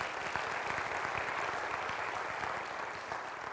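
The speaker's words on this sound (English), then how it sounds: "How about a round of applause for these people?" A school community meeting audience claps for steering committee members, a short, even stretch of mixed clapping from a modest crowd, somewhat distant and soft, with no talk.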